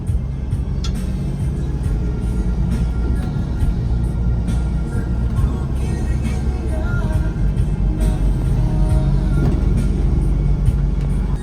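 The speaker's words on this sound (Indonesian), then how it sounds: "Ini adalah suasana ketika bus sedang nanjak, teman-teman." A Borlindo Volvo B8R 330H big bus climbs a steep uphill road, its engine giving a loud, continuous low roar with cabin rattles and knocks throughout.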